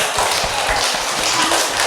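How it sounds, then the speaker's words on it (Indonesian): A school class claps for a group of students during a lesson, a short burst of close, fairly loud, dense clapping with some thumping taps underneath. "tepuk tangan untuk kelompok 1"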